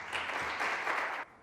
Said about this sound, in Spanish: pedirles a todos ustedes un aplauso para ellos.